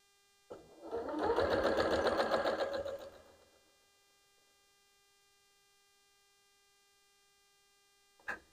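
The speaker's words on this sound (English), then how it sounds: "Let me go over to the camera for the sewing machine" A sewing machine paper-piecing a quilt block runs in one steady burst of rapid stitching with a mechanical hum for about two seconds, then winds down, followed by silence and a small click.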